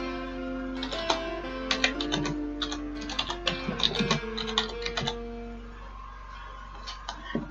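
Quick, irregular clicks of typing on a computer keyboard come in close bursts over a low electrical hum, then thin out toward the end.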